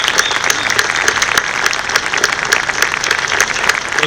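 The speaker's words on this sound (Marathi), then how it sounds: "जोरात टाळ्या वाजवूया आपण." Loud, continuous clapping from an audience at a primary school's annual gathering, many hands applauding the school staff in an even, energetic burst.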